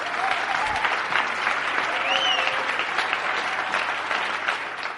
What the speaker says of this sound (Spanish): así que un aplauso para la Comiteca